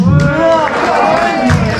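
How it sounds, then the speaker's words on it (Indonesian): Crowd noise from the audience at a gathering of an Indonesian ventriloquist community, a dense, loud wash of clapping and cheering throughout, with voices mingled in the babble. "Tepuk tangan buat Abang Randy"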